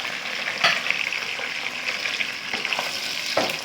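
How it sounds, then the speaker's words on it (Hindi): Steady sizzling of about three medium onions frying in hot oil for chicken qorma, with occasional stirring scrapes breaking through the constant hiss. "अब हम इनको करते हैं फ्राई"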